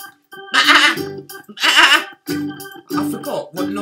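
A human voice mimics a sheep's bleat during a sung Old MacDonald farm song, giving four wavering, nasal baa calls in quick succession, fairly loud and close.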